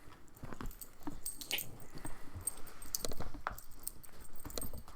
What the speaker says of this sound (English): ACC shuffling his cards around.